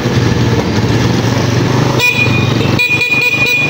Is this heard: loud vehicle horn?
yes